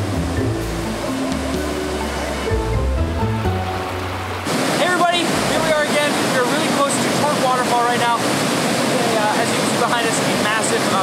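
Icy Owengarriff River in Killarney National Park, a continuous broadband roar of rushing water; early on it sits under other sounds, later it carries on alone, close and loud, with chirpy higher sounds over it.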